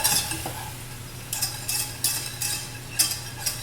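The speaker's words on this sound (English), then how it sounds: "add your butter, about half a stick butter, about 2 tablespoons flour, stir" Flour being stirred into melted butter in a pan, with a soft steady sizzle beneath a series of sharp scraping and clinking strokes of the utensil, close and fairly quiet.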